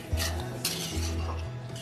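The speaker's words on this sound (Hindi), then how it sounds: "इसको हम अच्छी तरीके से चलाते रहेंगे और अच्छी तरीके से पका लेंगे" Paneer and milk mixture for paneer barfi stirred in a pan on the stove, with a quick series of spoon scrapes and clinks against the metal over a soft sizzle, close up.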